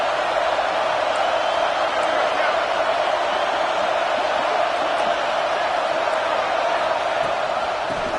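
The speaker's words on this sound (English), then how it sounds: "This crowd bringing the energy and noise early." A football stadium crowd keeps up a constant roar of cheering and noise, a dense, even wall of sound from many distant voices throughout.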